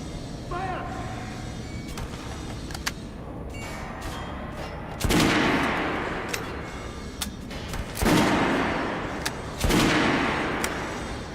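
Gunfire on a shooting range in Metro Last Light, where Artyom tries out weapons: several sharp, loud shots spaced a few seconds apart, each trailing into a reverberant decay over a steady background rumble.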